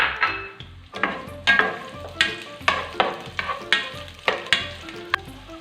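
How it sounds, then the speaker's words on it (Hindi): Two tablespoons of chopped onion sauté gently in a pan, a soft sizzle running beneath sharp, regular knocks of a spoon stirring against the pan roughly every half second. "टू टेबलस्पून चॉप प्याज है वो इसमें डालना है और इसको सिर्फ सौते करना है हमने"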